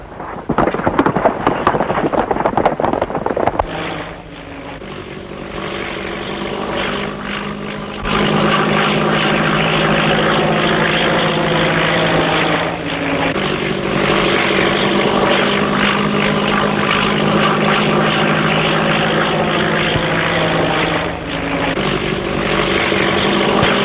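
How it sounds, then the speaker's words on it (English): A propeller-driven airplane flies overhead in a 1930s film scene. After a brief burst of crackling noise comes a loud, steady engine drone with a low throbbing hum, and it stays close and continuous throughout. "Where's this plane coming from?"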